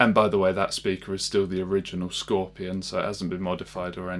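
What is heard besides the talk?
None of the usual background noises is heard.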